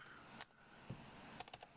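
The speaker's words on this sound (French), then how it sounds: "Stupide clavier français." Quiet, close keystrokes on a French computer keyboard: a few isolated taps followed by a quick burst of clicks, with no talking.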